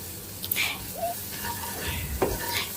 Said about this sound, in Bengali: মশলাগুলো দিয়ে পেঁয়াজের সঙ্গে নেড়ে নিচ্ছি